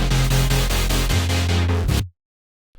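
Layered synths summed on one bus with LFO-driven volume automation, pulsing rhythmically over a heavy bass drone for about two seconds before cutting abruptly to silence.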